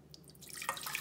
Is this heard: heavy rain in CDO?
no